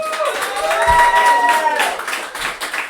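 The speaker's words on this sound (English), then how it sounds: "Another round of applause for Patrick Casey" Crowd applause at a political leadership summit, a dense steady wash of many hands clapping that fills the room and holds at a loud level throughout.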